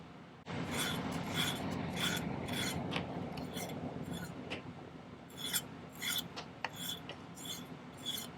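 Hand file rasping the end of 14 gauge round wire, a run of close, rhythmic scraping strokes, continuous at first and then broken into separate short strokes.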